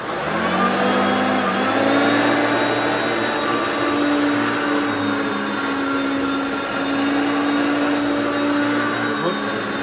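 A Hoover Concept One vacuum cleaner running through household chores, making a loud, continuous close motor drone whose pitch rises and dips slightly as it moves, with no talking.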